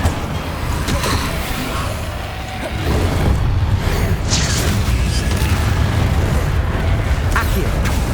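Confringo blasting spell in Hogwarts Legacy goes off amid other spellcasting, a loud, rumbling booming explosion that swells and sustains close up, with cracks and debris noise layered over it.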